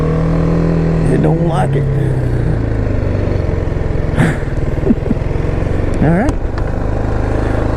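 A BMW G310R motorcycle fitted with a full Akrapovic exhaust idling loudly and close, with a few short throttle blips. Someone speaks briefly over the engine.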